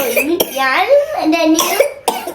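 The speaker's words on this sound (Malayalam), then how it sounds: "ഈ ചുമ ഞാൻ ചുമച്ചില്ലേ" A child coughs twice in short, sharp bursts, once near the start and once near the end, with someone talking close up between the coughs.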